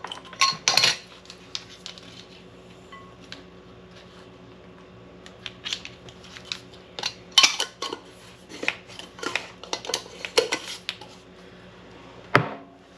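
Small metal measuring spoons clink and tap against each other and a container while onion powder is measured out for a homemade pantry mix, a scattered series of light, close clicks with quiet gaps between them.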